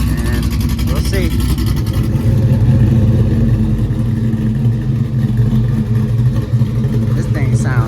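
A big-block V8 in a Corvette runs on a dyno, a loud, deep, steady engine roar with a rough low throb, with voices heard over it.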